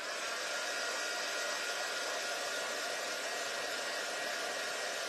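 A hair dryer blows on freshly painted craft pieces, a loud, continuous airy whoosh with a steady motor whine that stays constant throughout, with no speech over it.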